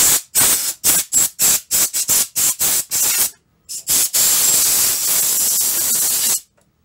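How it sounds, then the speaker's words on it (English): A compressor blows dust off a dusty Atari controller with a dozen short hissing bursts of air in quick rhythm, then one longer sustained blast, loud and close. "That's why this compressor comes in handy."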